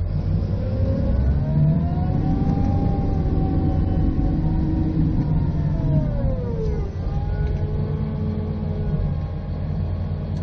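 A GPS-guided bulldozer drives forward on automatic blade control, its diesel engine a steady, loud drone throughout with shifting pitch as it works, close by and without talk.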